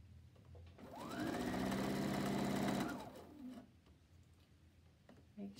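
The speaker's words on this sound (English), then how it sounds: "Don't sew over the pins. That'll break needles and hurt your machine." A sewing machine stitches the neck edge of a jacket in one continuous run of about two seconds, starting and stopping smoothly, while faint pigeon coos sound in the background.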